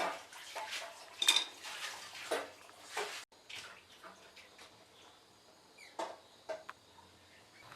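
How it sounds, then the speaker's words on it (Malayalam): Ground pineapple being cooked down in a pan with ghee, heard as a string of clinks and scrapes of a utensil against the pan, some sharp and close, spaced irregularly over a quiet kitchen background. "ഇനി അരച്ചു വച്ചിരിക്കുന്ന പൈനാപ്പിൾ കൂടി നന്നായിട്ടൊന്ന് വേവിച്ച് കുറുക്കിയെടുക്കാം."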